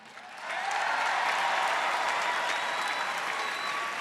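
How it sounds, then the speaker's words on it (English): A large audience bursts into applause after a performance, the clapping rising quickly to a loud, dense, steady roar and holding with a few faint cheers. "I just want to hear you guys give a huge round of applause again."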